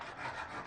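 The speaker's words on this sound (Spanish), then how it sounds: "Ahora estoy dando la segunda mano de lija fina a mano, en círculos para que no se note ninguna raya" Fine sandpaper is rubbed by hand in circles over a wooden inlay panel, giving a soft, continuous close-up rasping with no talk.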